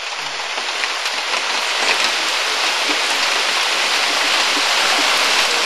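Steady, dense rain pours down in the Amazon rainforest, a constant hiss of countless drops hitting surfaces, even and unbroken throughout.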